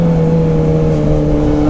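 A modified KTM RC 390 motorcycle engine runs at a steady, loud, close drone with a strong, even hum and no clear rise in pitch across the short stretch.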